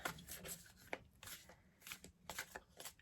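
A deck of tarot-style cards being shuffled by hand in quiet, repeated riffling bursts, close and soft, with short pauses between shuffles and no talking.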